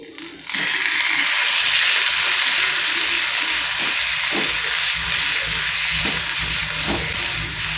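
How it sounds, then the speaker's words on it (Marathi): A loud, steady sizzle of ground spice paste frying in hot oil in a kadhai for a chickpea-greens dish begins abruptly and continues throughout, with occasional soft stirring knocks. "तेलात वाटण टाकून घेऊयात।"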